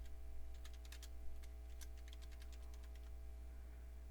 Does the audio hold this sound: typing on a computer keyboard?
yes